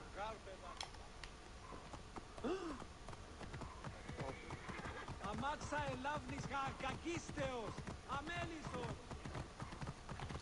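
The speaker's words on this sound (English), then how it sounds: "Oh, my horse is still there." A horse's hooves clip-clop steadily in Assassin's Creed Origins Discovery Tour, with a whinny in the mix, while someone talks over the moderately close footfalls.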